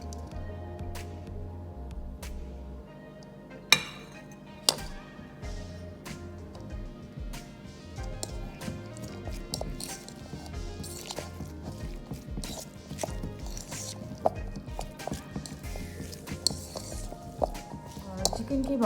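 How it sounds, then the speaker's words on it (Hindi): Boiled chicken being mixed with cabbage and other ingredients in a bowl, a spoon scraping and clinking against the sides with irregular sharp taps, close up, while someone talks. "इन्हें मैं अच्छी तरह मिक्स करूँगी।"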